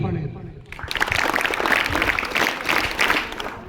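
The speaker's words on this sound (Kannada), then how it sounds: "ನಿಮಗೆ ಒಂದು ಚಪ್ಪಾಳೆ" An audience at a Kannada folk-culture gathering bursts into applause, a dense, sustained clapping that starts after a brief pause and carries on loudly to the end, with a voice speaking over the start.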